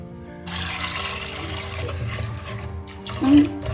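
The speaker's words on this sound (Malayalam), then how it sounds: "നമുക്ക് ഇത് വേവാൻ ആവശ്യമുള്ള വെള്ളം ഒഴിക്കുക" Water pours steadily into a pot, a running splashy rush that swells briefly near the end, with no voices.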